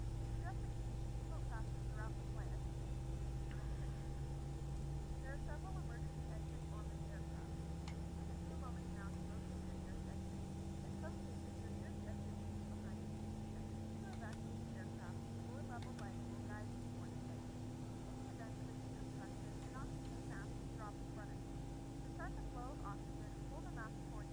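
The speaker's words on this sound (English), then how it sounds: "both engines are now active" Airbus A319 engines running on the ground in X-Plane 11, a steady whine that gradually rises in pitch over a constant low roar, with a person talking over it throughout.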